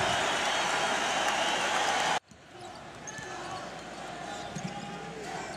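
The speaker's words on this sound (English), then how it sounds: "The crowd's going crazy." Loud, roaring arena crowd at a college basketball game between the Wichita State Shockers and Oral Roberts, a dense wall of noise that cuts off abruptly, then gives way to quieter murmuring hall ambience with scattered shouts.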